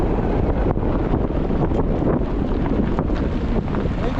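Strong wind buffets the microphone while driving a windy single-lane road toward the Yukon, a loud continuous roar with gusty surges and no speech.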